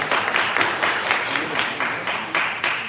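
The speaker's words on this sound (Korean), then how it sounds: "다시 한번 수고했다고 박수 한번 부탁드리겠습니다" Steady audience applause and clapping at a church youth Sunday service, dense and sustained for the whole stretch with a few louder bursts, close and fairly loud.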